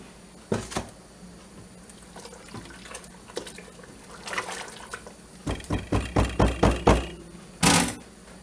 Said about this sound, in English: Now to ladle the hot syrup, or flavoring, whatever you'd like to call it, over the beans.